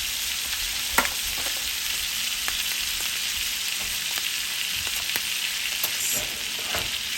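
Filet mignon sizzles loudly and steadily in a pan while being basted with infused olive oil and butter. Scattered spoon clicks and spatters cut through the dense, even hiss, with no voices.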